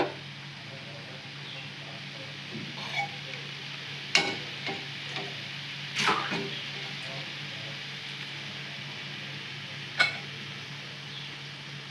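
Pointed gourd and tomato cooking in a pan after water is added, a soft steady simmering hiss with a few faint clicks and taps from utensils or a lid.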